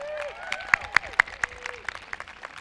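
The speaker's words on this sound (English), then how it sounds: "Can we please give them a round of applause?" Applause from an audience at a community college graduation ceremony, a crowd clapping in a steady burst with a few sharp, loud claps standing out near the front.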